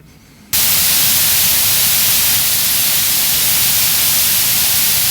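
Loud, steady hiss of radio static from a $7 software-defined radio receiver bursts in after a quiet half second and continues unbroken, close and harsh.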